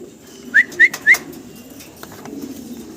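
A pair of high flyer pigeons gives three short, clear coos in a quick, evenly spaced run, close by, followed by faint background noise with no talking.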